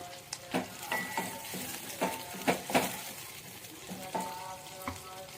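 Chana dal, urad dal, mustard seeds and cumin crackle and sizzle in hot oil, with steady close-up stirring that brings bright scraping clinks and small pops every second or so.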